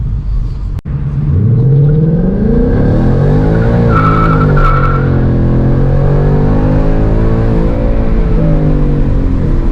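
A car launches hard for a 0-60 run in drag mode with traction control off, cold street tires spinning: a loud, continuous engine roar rises in pitch with a brief tire squeal in the middle.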